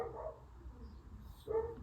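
A dog barks a couple of times indoors, short muffled woofs at moderate distance, apparently at someone passing on the sidewalk outside.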